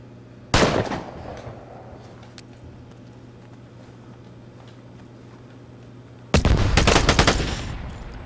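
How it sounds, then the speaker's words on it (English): Gunshots ring out in the survival shooter game Vigor. A single sharp, loud report is followed by a long quiet lull, then a dense burst of rapid fire. "I don't know where that shot just came from"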